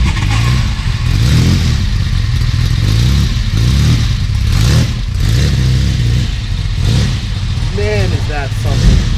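A 1975 Lancia Stratos HF Group 4 works rally car engine cranks, fires and revs in loud blips, rising and falling close by, with someone talking over it.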